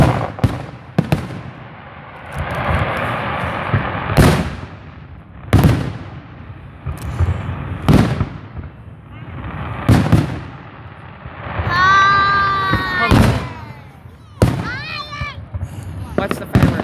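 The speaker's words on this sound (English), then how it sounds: "Watch the fireworks, baby." Fireworks bursting nearby in a series of loud, sharp bangs spaced a second or two apart, with crackling and whistling between blasts while people talk and exclaim.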